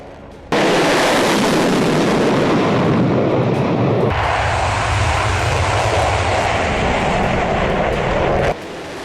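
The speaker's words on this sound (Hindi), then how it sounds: "इस रशियन फाइटर जेट ने आर्कटिक के ऊपर डॉग फाइटिंग, इंटरसेप्शन और हमले की तैयारियों का अभ्यास किया है" A Russian MiG-29K naval multirole fighter jet roars loudly and continuously overhead, a dense broadband engine blast that starts abruptly, shifts in tone midway and cuts off near the end, with no talk.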